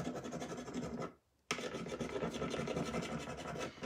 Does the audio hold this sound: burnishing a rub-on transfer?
yes